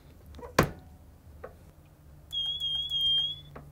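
A heat press set to 400 degrees sounds its finished-timer alarm: a steady, piercing electronic tone holding for about a second, following a sharp click and some faint handling noise.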